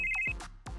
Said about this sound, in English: Phone rings.